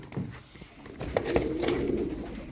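Pigeon cooing close by in a few soft, throaty phrases, with faint bird movement and background rustle around it.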